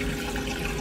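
Water rushes through a repaired toilet flushometer, a short, loud, steady flow with no talking.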